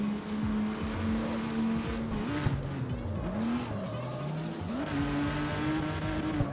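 In the CarX Street driving game, a car drifts through corners, its engine droning and shifting pitch while tires squeal in long skids, loud and continuous with no talk.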